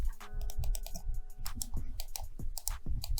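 Rapid, crisp button clicks from a Fantech G10 Rhasta gaming mouse repeat in quick bursts, close and fairly loud, with no talking.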